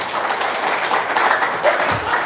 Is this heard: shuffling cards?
no